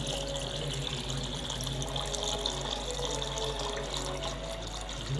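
Steady running water pours continuously into a clay pot, a broad rushing wash with a low hum underneath and no talking.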